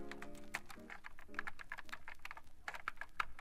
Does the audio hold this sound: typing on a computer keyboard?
yes